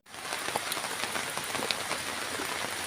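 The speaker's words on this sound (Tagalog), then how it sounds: "Ulan dito, guys." Rain falls steadily outdoors, a dense, even patter of drops hitting surfaces close by with no pauses and no voices.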